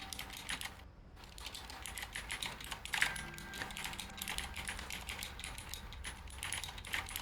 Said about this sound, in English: I have a new keyboard, and it has blue switches. It is very Like, loud.